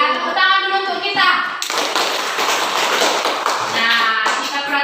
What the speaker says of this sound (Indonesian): Iya, tepuk tangan dulu untuk kita.